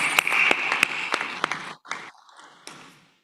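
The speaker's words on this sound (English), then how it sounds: "Please give him a round of applause." Scattered applause at an African experts' committee meeting during the unveiling of a new stamp, a handful of sharp, close claps over a bright tone that thin out and break off partway through.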